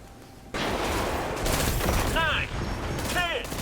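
Sustained rapid gunfire from shooting enemies in Destiny 2, a dense, loud continuous burst beginning abruptly after a short quiet moment, with brief voice-like tones over the shooting.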